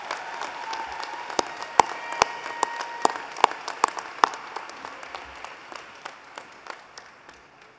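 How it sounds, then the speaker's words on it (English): An audience at the Platt College 2017 graduation ceremony claps for the Total Force Color Guard from March Air Force Base, with scattered, fairly thin applause in uneven claps that fades out toward the end. "big round of applause, ladies and gentlemen"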